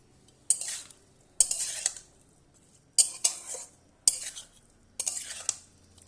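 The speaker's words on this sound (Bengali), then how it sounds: "এবার আমি ভালোভাবে নেড়ে নেব মাছটা।" A spoon scrapes and clatters against a pan while stirring small oily fish, in five distinct bursts of metallic scraping spaced about a second apart, with quiet gaps between and a soft sizzle underneath.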